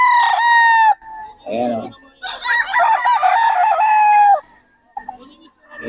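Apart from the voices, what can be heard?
chickens and roosters crowing at a poultry seller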